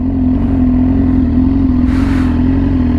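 A Yamaha R6 sport motorcycle with a very loud aftermarket exhaust idles with a steady, deep drone, then gets a short, sharp rev partway through before settling back. The bike is close, loud and heard alone.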